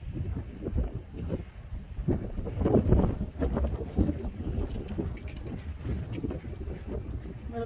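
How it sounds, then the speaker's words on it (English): Outdoor wind buffets the microphone with a steady low rumble and gusts, blowing the strands of a salt-and-pepper wig about. The rumble holds for the whole stretch and swells at times. "A little bit of wind blowing that around."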